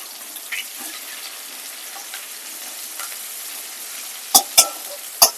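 Chopped onion sizzles steadily in hot oil with cumin in a kadai. Three sharp spatula knocks come near the end, and no one talks.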